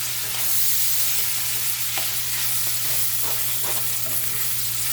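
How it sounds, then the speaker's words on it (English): Cabbage cooks in a hot pan, giving a steady sizzle and crackle with occasional stirring scrapes throughout, with a low hum underneath and no talking. "It's been about 2 minutes. The cabbage been cooking."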